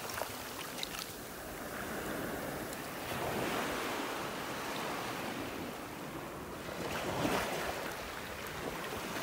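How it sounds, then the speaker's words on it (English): Waves wash up a shell-covered beach in North Naples, Florida, steady surf rolling in and drawing back over the shells with a broad, continuous wash, some wind noise across the microphone and no voices. "The water's just slowly coming up here and pulling all the shells back down into the water here."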